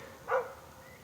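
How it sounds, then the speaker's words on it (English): On a trail near Snow Lake, a single faint, brief bark from a distant dog rises once over quiet outdoor background noise. "And I hear a dog barking."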